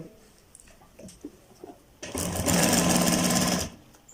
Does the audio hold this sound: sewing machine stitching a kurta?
yes